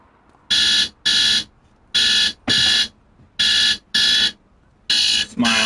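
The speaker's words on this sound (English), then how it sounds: "It's my alarm." An in-game alarm in The Precinct police video game sounds loud and close as a series of identical electronic bursts, about eight evenly paced pulses in pairs with short gaps.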